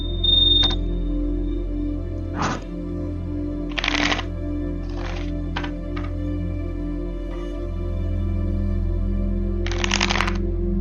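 Tarot cards being shuffled and drawn by hand, several quick riffling bursts and flicks separated by pauses, close and crisp over a constant low hum in a quiet room.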